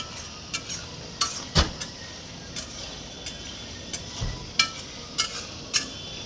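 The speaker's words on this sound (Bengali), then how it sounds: "সুন্দর করে মশলা কষানো হচ্ছে।" Spice masala being stir-fried in a pan, with sharp intermittent scrapes and clinks of a spatula against metal over a faint sizzle.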